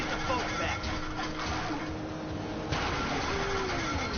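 A sputtering, strained damaged car engine in Grand Theft Auto V rumbles steadily with rough, uneven mechanical noise, mixed with game sound effects and background voices.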